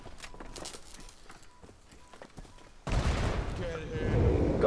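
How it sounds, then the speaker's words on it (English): An explosion from a player-set bomb in the zombie escape game Pandemic Express bursts in loudly partway through, turning quiet shuffling footstep-like sounds into a sustained, roaring blast and rumble. "I set my bomb off!"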